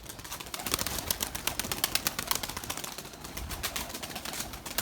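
Erzurum white pigeons and their young stir in a loft, with soft coos, shuffling and occasional wing flaps sounding close and busy, in a steady clutter with no voices heard.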